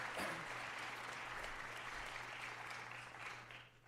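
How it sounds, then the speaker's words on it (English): Audience at a senior awards night applauds the parents, a steady wash of many hands clapping at moderate distance that runs nearly four seconds and tapers slightly at the end, with a low hum underneath. "let's give the parents a round of applause."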